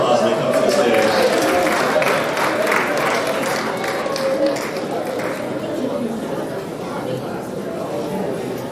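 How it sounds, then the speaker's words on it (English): An audience at the Black Diamond Awards 2024 ceremony claps and cheers for traditional performers taking the stage, a dense, sustained wash of applause and crowd chatter that slowly eases while staying steady. "let's give them a round of applause when they come to the stage"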